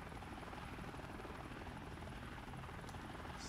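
Helicopter rotors and engine in the video game 7 Days to Die, a steady loud whir and buzz holding even throughout with no pauses.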